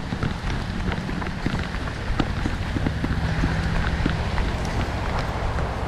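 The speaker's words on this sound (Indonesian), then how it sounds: "hujan" Heavy rain pours steadily in an outdoor fishing spot, a dense continuous hiss with scattered close drops pattering on nearby surfaces throughout.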